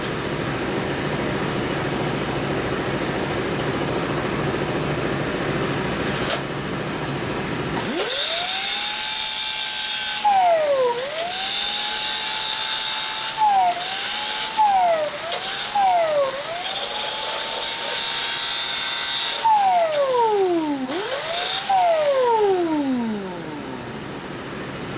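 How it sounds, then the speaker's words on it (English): An angle grinder cuts and grinds a metal motorcycle part, a 1941–72 WL clutch cable top motor mount, in a loud whining series of passes, its pitch dropping under load and recovering between cuts, over a steady background hum. "I'm going to grind it from going this direction"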